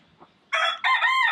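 A chicken, oddly shaped, seen at a nature camp in Tanay, Rizal, crows loudly and close in two bursts after a brief faint sound, with no talking.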